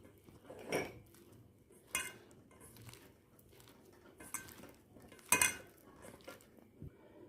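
Cut mushroom pieces mixed into spiced batter in a bowl, giving soft wet patters and a few sharp clinks of a spoon against the bowl, with quiet gaps between them.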